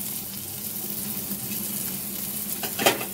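Onion fries in butter in a pan over a medium-high flame for red sauce macaroni, a soft, even sizzle with a brief louder burst of crackle near the end.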